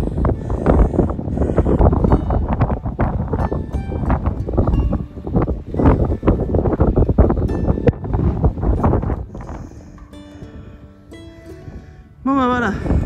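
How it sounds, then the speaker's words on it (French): Strong wind buffets the microphone in loud, gusty roars on the coast near the Île Vierge lighthouses, with a voice speaking intermittently beneath the blustering noise. "Parce qu'il y a beaucoup de vent."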